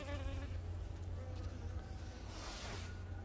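Honey bees at an open hive, with a queen on the frame, hum in a steady, close swarm drone, a brighter buzz sweeping past near the end.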